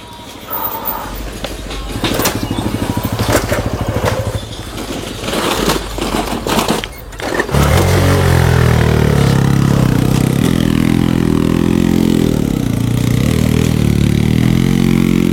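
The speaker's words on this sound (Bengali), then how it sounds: "এই যে দেখুন আবার কয়েকটা বাইক আসছে।" Several motorcycles come up a hill road on Parasnath Hill, Jharkhand: scattered clicks and light engine noise at first, then a loud, close, sustained engine roar with rising and falling pitch as the bikes pass.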